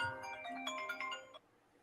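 A phone ringtone plays a bright, melodic run of electronic tones for over a second, then stops abruptly, fairly faint and with no voices.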